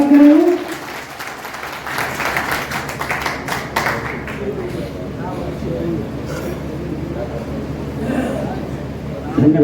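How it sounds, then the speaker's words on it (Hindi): Loud applause welcomes a speaker at a BAMCEF divisional conference hall, a burst of clapping in the first few seconds that thins into murmuring crowd noise and scattered voices. "चिल्लिया साहब एक जोरदार तालियों के साथ स्वागत करेंगे"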